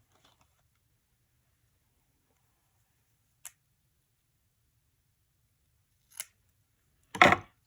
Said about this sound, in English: so I'm going to find my scissors here